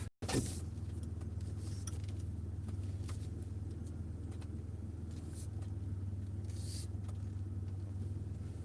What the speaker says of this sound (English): So now, as I drive this a little bit, spent 2-3 days working on this truck